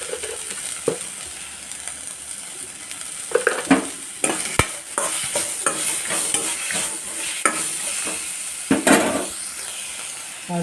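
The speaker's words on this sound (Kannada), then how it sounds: "ನುಗ್ಗೆಕಾಯಿ ಹಾಕ್ತಾಯಿದ್ದೀನಿ. ಒಂದು 2 ಮಿನಿಟ್ಸ್ ಫ್ರೈ ಮಾಡಿ." Drumsticks with salt stir-fried in a pan: loud close sizzling broken by repeated scraping and clattering strokes of a spatula against the pan, irregular and busy throughout, with no voices.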